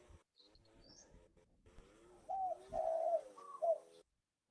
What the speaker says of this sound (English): Beautiful bird noises.